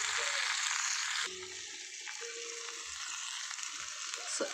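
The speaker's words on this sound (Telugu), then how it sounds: "ఇవన్నీ మంచిగా ఫ్రై అవ్వాలి ఫ్రెండ్స్" Vegetables frying in a pan for Telangana-style sambar, a steady broadband hiss and sizzle close by that dips slightly after a stir, with faint voice-like murmurs underneath.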